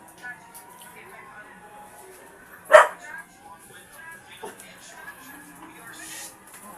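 A dog gives a single sharp bark midway through, standing out briefly over a quiet indoor background with faint voices and soft noises around it.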